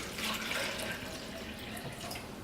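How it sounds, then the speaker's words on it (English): Water poured gently from a cup onto freshly planted tomato seedlings in soil, a steady soft trickle and splash running close by throughout with no talking. "what I'm going to do here is I'm just going to water them"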